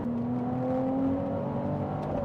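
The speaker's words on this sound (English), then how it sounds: "exhaust doesn't sound too bad too from that little V6" Twin-turbo V6 car exhaust under hard acceleration on a back road, a steady droning engine note with a rising whine held loud and close throughout, no talking.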